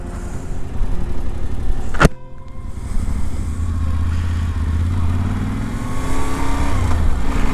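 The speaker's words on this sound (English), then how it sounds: "I will go for a test ride on the Yamaha Tenere T7" A Yamaha Tenere T7 motorcycle on a test ride, its engine droning steadily and rising in pitch as it accelerates, with a sharp click or gear change partway through and strong wind noise throughout.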